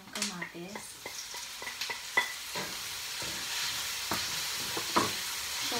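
Onions and tomatoes sauté with sardines in a hot pan, a soft steady sizzle broken by scraping stirs and light clinks of the utensil against the metal.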